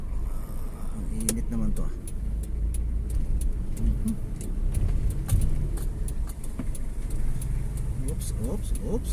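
Road traffic beside a public market in Bacolod City, with cars and engines passing close by in a steady rumble, mixed with clinks and rattles while someone speaks briefly.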